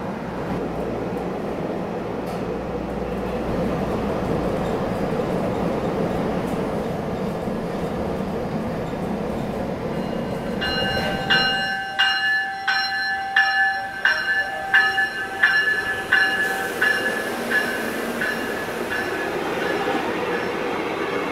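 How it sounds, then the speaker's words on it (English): A Denver G Line commuter train rumbles at a station, then a repeating bell rings steadily for several seconds alongside the rail noise; no talking. "There's a train in the station of the G line."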